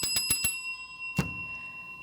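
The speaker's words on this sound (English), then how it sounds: "we just heard the CynCity bell. That's our 2-minute warning, signaling the end of our CynCity Citizens meeting" A bell rings as a two-minute warning near the end of a live online citizens meeting. Four quick, bright rings are followed by a pause and one more ring that fades out, clear and alone.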